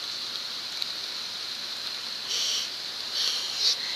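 Steady rain falling outdoors near a gate, with a constant hiss and brief louder swells, heard on its own without any talk.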